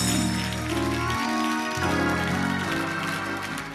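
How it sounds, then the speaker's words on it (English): Church congregation applause for the praise team during a worship service, a continuous wash of clapping mixed with sustained organ or keyboard chords that shift under it, loud and close throughout. "Give the praise team an applause"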